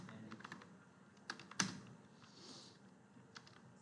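Quiet keystrokes on a computer keyboard while text is typed into an MS Word document, coming in irregular soft clicks with a sharper tap near the middle and no talking.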